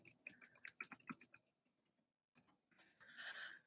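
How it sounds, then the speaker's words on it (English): A quick burst of about a dozen clicky keystrokes on a computer keyboard, followed by a pause and then a few softer, scattered taps and a faint rustle. "Let me just type a welcome real fast"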